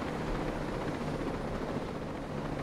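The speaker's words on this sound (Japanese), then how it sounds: "ヘリがスライドしてくる" Helicopter in the video game Ghost Recon Breakpoint, a steady, dense rotor and engine roar that fills the whole moment at moderate loudness, with no talking.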